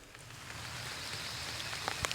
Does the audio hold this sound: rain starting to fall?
yes